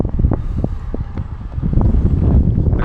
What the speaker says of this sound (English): Like I say, it's really windy.